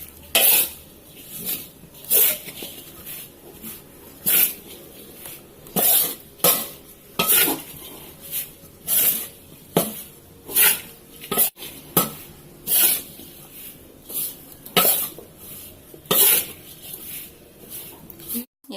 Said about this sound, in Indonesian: sagunya terus diaduk ya, hingga dia benar-benar matang